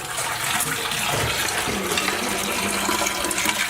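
Steady rushing water pours and drains continuously from a toilet tank, close by, with a broad gurgling wash that holds level throughout.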